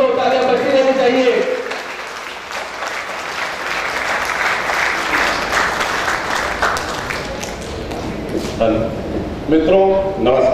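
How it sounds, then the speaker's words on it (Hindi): A crowd at a real estate company's stage event in India keeps clapping loudly and steadily for several seconds, with speech heard before and after the applause. "तालियां बजती रहनी चाहिए।"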